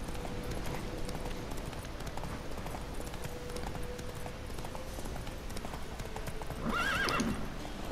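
A horse in the video game The Witcher 3 gallops with rapid rhythmic hoofbeats throughout, then gives a loud whinny near the end.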